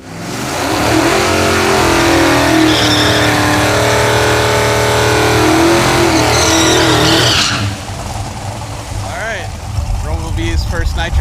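A 1969 Pontiac Firebird's engine roars loud and sustained on a nitrous pass, revving hard with tire noise, then drops off and continues more roughly as voices talk over it.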